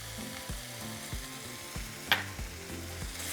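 Ground beef sizzles steadily in a pan, seasoned with chile powder, paprika, cayenne and black pepper, with a continuous crackling fry broken by soft periodic stirring scrapes and one sharper clink near the end.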